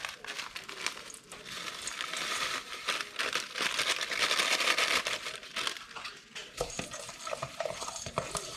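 A pack of Ritz crackers crushed with a rolling pin, heard as a close, continuous run of crinkling wrapper and crunching, scraping strokes that swell and ebb over several seconds.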